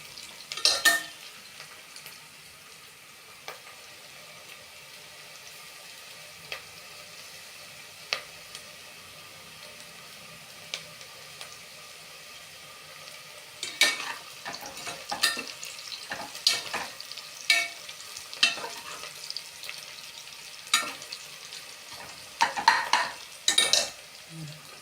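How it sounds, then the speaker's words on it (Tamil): Onions fry for biryani in a pot, a low quiet sizzle at first, then a spoon stirs and scrapes against the metal in irregular clattering bursts over the last half, close and clear, with no voices. "வெங்காயம் நல்லா வதங்கணும். ஒரு கோல்டன் கலருக்கு மாறுற அளவுக்கு நம்ம வெயிட் பண்ணலாம்."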